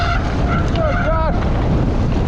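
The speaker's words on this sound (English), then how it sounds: "that wind is insane!" Heavy wind buffets the microphone during an eBike ride in snowy mountain terrain, a constant loud roaring rumble throughout with a faint voice and tonal whine partly buried underneath.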